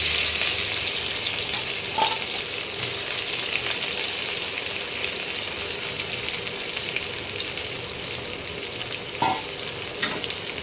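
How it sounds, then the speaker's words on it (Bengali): Chopped onion frying in oil in a pan after cumin seeds were added makes a loud, steady sizzle throughout, with a couple of faint clinks of a utensil. No one speaks. "পেঁয়াজ কুচিটাকে একটু লাল লাল করে ভেজে নিচ্ছি।"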